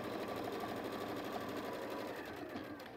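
A sewing machine stitches a quilt seam with a fast, even, steady mechanical chatter, close and continuous throughout.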